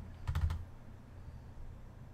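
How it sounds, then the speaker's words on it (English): Keys on a computer keyboard are typed in a quick burst of three or four soft, close clicks, followed by quiet. Nobody speaks. "Let's type in Koko here."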